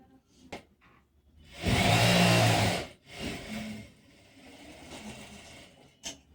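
Overlock sewing machine cutting and stitching fabric for a lined half-circle palazzo, a loud steady motor whir for about a second in the middle, with quieter mechanical running and soft clicks before and after.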